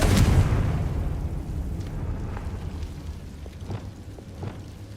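A Confringo spell explosion in the video game Hogwarts Legacy, a loud deep boom at the start that rumbles and fades into a low, continuous roar with faint crackles.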